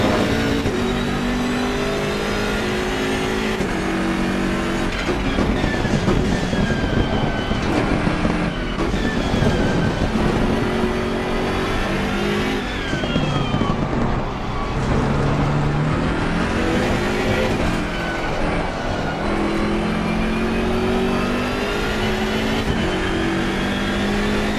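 Race car engine in a sim-racing game while chasing a Porsche, a loud continuous roar that rises and falls in pitch through gear changes and revving, running steadily with no talk.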